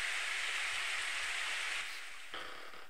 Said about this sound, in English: The rain grows stronger over time,